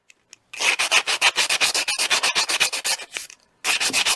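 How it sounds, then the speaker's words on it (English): Rhythmic rasping strokes of sanding across the outer surface of a wire-wrapped ammonite pendant, a fast steady run of close, loud rubs, a short pause, then a few more strokes. "sand all the outside surface"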